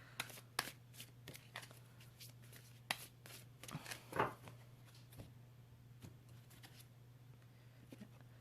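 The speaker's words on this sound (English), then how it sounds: "I'm going to get a few cards" Tarot cards are shuffled close to the microphone in a quiet room, a series of sharp riffling snaps and soft slides at irregular intervals over a low steady hum.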